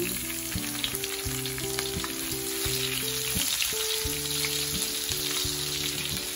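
Garlic frying in a pan while cooking bamboo shoots with coconut milk and saluyot: a steady, loud sizzle with crackling, continuous and close, with some tonal background music running underneath.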